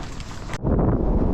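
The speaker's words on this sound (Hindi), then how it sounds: "इतनी भयंकर हवा चल रही है ना, आपको आवाज़ भी साफ सुनाई नहीं दे रही होगी।" Harsh wind buffets the microphone on a high alpine winter trek near a frozen lake, a roaring rumble that surges louder halfway through and stays heavy.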